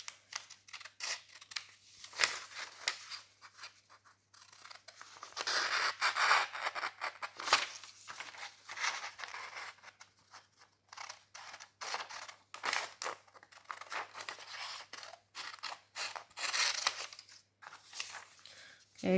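Scissors snip around the outline of a paper net, a close series of crisp, irregular cuts and paper rustles that come in bursts with pauses, while a person talks intermittently over them.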